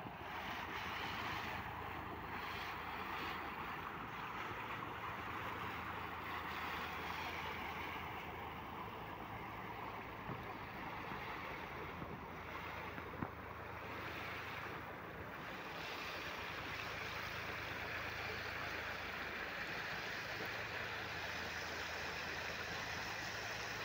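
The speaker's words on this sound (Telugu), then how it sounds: "మీకు డబుల్ ఇంజిన్ మోటార్ చూడండి ఎంత తోడుతుందో" A double-engine motor pump discharges a heavy flow of water while dewatering tower foundations in Amaravati. The water rushes in a steady, surf-like roar with a wind-like hiss that holds at an even level throughout.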